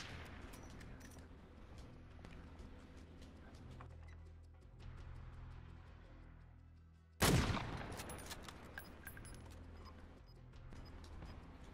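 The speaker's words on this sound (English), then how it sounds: "Oh, someone up there shooting." Gunfire in Call of Duty: Warzone: quiet, distant rapid shots patter through the first half, then a sudden loud close blast erupts, followed by a decaying rumble and scattered further shots.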